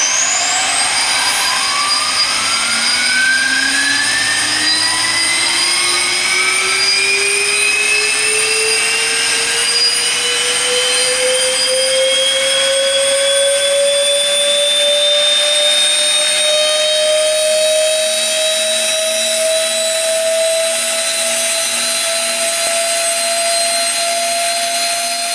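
A Fischer Dottikon center hole grinding machine spins up, its whine rising steadily in pitch over about ten seconds and then holding a loud, continuous high tone with no talk.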